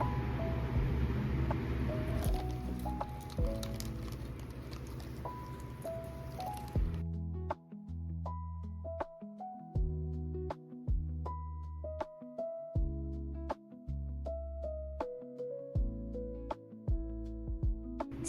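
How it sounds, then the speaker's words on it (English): A Japanese train station departure melody: a bright, chiming tune of short repeated notes plays fairly loud and steady, with a busy, noisy stretch of station ambience at the start before the melody rings out clearly on its own. "Many train stations in Japan actually have unique melodies for departures."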